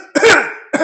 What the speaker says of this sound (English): That's a cough that keeps on rising.